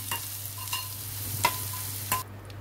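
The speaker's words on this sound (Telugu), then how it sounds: "కారం వేసినాక ఒక 5 నిమిషాలు ఇట్లా మగ్గనివ్వాలి." Tamarind pulusu with chili powder simmering in a pan, a soft continuous bubbling sizzle with a few light stirring clinks, fairly quiet and steady with no voices.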